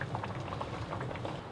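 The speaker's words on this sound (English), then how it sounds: "these have been simmering for about 10 minutes now, and they're falling apart quite easily" Potatoes simmer in a pot of boiling water, giving a close, continuous bubbling and gurgling with small irregular pops and no voices.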